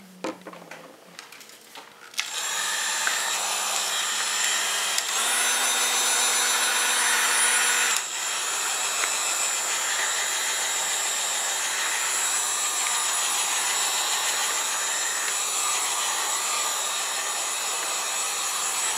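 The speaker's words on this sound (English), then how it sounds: "the only reason I'm bothering to dry this right now is because I've got to have somewhere to lay it" Handheld drying tool blowing steadily on colored cardstock for flowers, a continuous loud whirring airflow that starts after a couple of seconds and runs on without pause.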